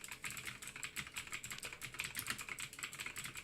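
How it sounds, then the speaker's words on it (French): Continuous rapid typing on a loud computer keyboard, bright clacking keystrokes in a dense steady rhythm, close and clear with no voices. "je vais écrire au clavier tout en parlant"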